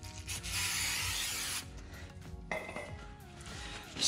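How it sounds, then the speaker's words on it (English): A close hiss of aerosol brake cleaner sprayed onto the back of a brake rotor on a 2004 Subaru WRX STI runs for about a second, followed by quieter metallic rubbing and clinks. "spraying down the back of this rotor with some brake clean"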